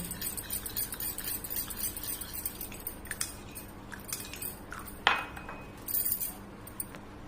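Spoon stirring cornflour into lightly warmed milk for a pudding, quiet repeated clinks and taps against a glass or bowl, with one sharper knock.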